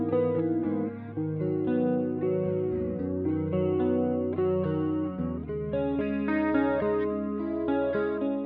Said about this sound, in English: These can make your guitar sounds really unique and add really cool textures to your sound.